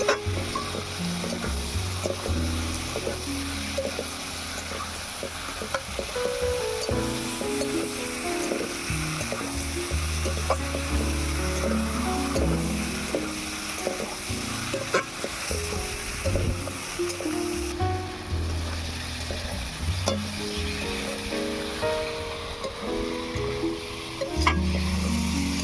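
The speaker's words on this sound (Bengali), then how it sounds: "পটলগুলো দিয়ে দিয়েছি, এবারে একটু কষিয়ে নেব।" Fried pointed gourd and potatoes sizzle in a pan as a spoon stirs and scrapes through them in irregular clinks, close and continuous, with no voices.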